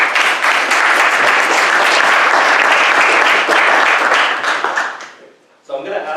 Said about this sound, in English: Why don't we give a quick round of applause to our panelists.